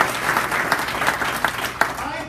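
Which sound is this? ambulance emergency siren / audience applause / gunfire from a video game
audience applause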